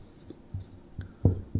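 Handwriting, likely pen or chalk during a physics lesson, makes a few short, scratchy strokes and taps in an uneven rhythm, close and fairly quiet, with no talking.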